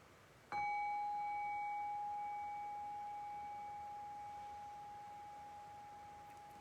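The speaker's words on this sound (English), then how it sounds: "I'll just ring the bell one time as a way of bringing this meditation to a close" A single meditation bell strikes once, a clean ring that hangs in the air and fades slowly over several seconds in a quiet room with no talking.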